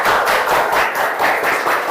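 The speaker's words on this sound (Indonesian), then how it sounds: "tepuk tangan dulu" Applause from a classroom audience, a steady wash of many hands clapping close by for a short stretch, without talk over it.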